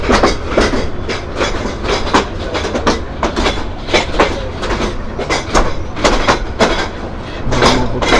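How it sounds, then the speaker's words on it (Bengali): The Brahmaputra Express thunders past close by near Gafargaon: loud, continuous rumble with rhythmic clickety-clack of wheels over rail joints and a faint metallic squeal, no talking. "ব্রহ্মপুত্র এক্সপ্রেস এই যে 743, 744"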